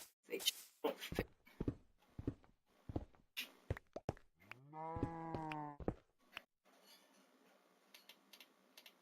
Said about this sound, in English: I hear a cow huffing and puffing.